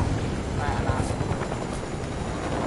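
A helicopter in a video game thrums steadily and fairly close, a continuous rotor chop with broadband noise across the whole stretch, while a voice talks faintly underneath.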